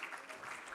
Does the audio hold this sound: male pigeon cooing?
no